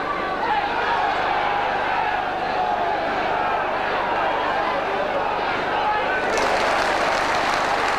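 Wrexham supporters applaud in a packed stadium during an FA Cup match against Middlesbrough, a broad wash of distant crowd clapping and murmur that swells near the end beneath a commentator's voice.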